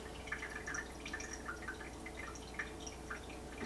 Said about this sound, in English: We'll go until it's pretty much a small little, like drip, drip, drip, till there's not a trickle anymore.